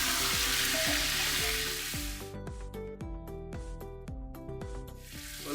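Chicken seasoned with spices and salt frying in a pot for degi biryani, a loud steady sizzle at first that thins into quieter crackling with repeated stirring scrapes, no talking.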